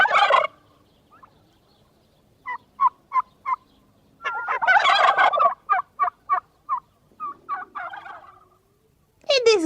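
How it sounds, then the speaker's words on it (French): Turkeys gobble in a cartoon farmyard with several loud rattling bursts, a run of short clucking notes in between, and quiet gaps, all clear and close. "Des dindons."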